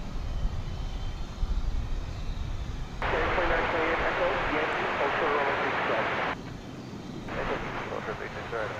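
A jet airliner roars down the runway on takeoff at DFW Airport, a loud broadband rush that swells abruptly, holds, then drops back before a second surge as the engine noise carries past.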